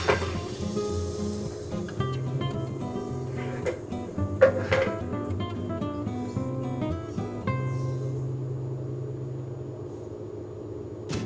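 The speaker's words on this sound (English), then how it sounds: "I'm gonna put a crepe batter, and Shimmy's gonna move around the pan" Crepe batter sizzling in a pan, a soft continuous sizzle under clattery kitchen handling noises and some tonal hum, with a few sharper knocks midway.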